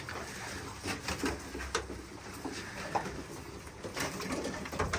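Pure-bred play pigeons cooing in a loft in Kızıltepe, Mardin, soft low coos repeating close by over a constant rustling, shuffling background.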